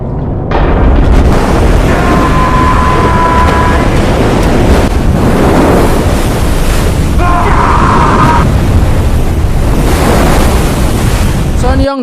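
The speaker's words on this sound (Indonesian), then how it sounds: "ada suara ombak gemuruh air yang datang mendekat" Loud, roaring surf crashes and rushes continuously, with wind buffeting and occasional droning tones beneath the churning water.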